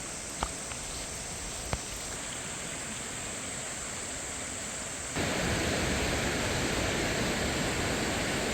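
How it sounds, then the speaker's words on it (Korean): Rushing mountain stream water in Jugwang Valley, Juwangsan, after rain, pours in a dense, steady hiss that grows louder and fuller midway through, with a couple of faint clicks early on. "주황 계곡 물소리를 들으니 아주 분위기가 좋습니다"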